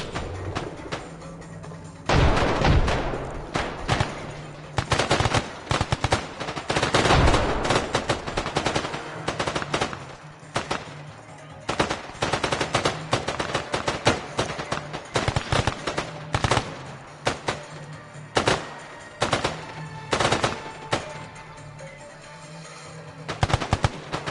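Loud bursts of gunfire in the video game Arma, rapid machine-gun rattles and single shots, continue almost nonstop with brief pauses throughout.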